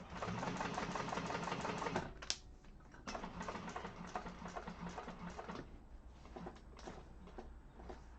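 A sewing machine top stitches along a handbag seam, a fast, fairly quiet rattling whir that runs almost continuously with a brief hitch and slight changes in pace, faint and close, with no talking.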